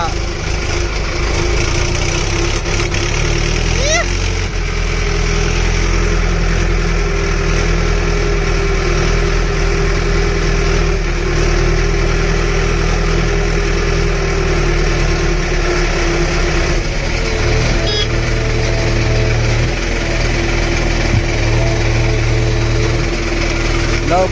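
A tractor sits idling at a machine belt during murum loading in the rain, its engine droning evenly and loud for the whole stretch, with voices talking over it at times.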